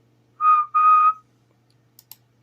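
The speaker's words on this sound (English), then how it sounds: "Then he heard a whistle." Two short bright whistle blasts close together, the second longer, then a couple of faint clicks; no speech, isolated in near silence, fitting a train whistle.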